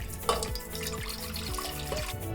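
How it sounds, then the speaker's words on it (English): Tap water runs steadily into a stock pot while it fills, making a continuous close splashing rush with faint clinks. "Fill a stock pot with water."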